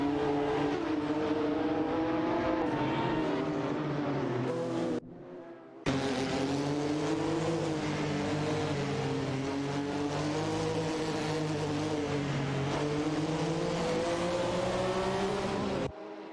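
Porsche 911 and Ferrari race cars in a racing video game rev hard side by side, a steady loud droning engine whine with shifting pitch, cut by a brief dip near the middle, with no talk.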